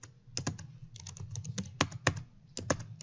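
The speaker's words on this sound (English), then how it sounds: "I'm going to come back to my tool and I'm going to type in Levy" Keys clatter on a computer keyboard in quick, uneven bursts of close, crisp taps with short pauses between words, alone and without any voice.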